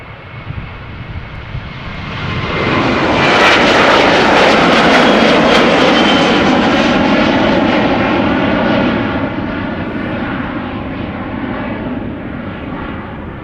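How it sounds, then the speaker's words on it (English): A KLM Boeing 737-800 airliner on flight 1127 to Copenhagen passes overhead at Schiphol Airport, its jet roar swelling loudly, holding for several seconds, then slowly fading without any talk. "As another airplane is coming this way, going to Copenhagen, KLM flight 1127, 737-800."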